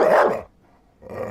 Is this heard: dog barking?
yes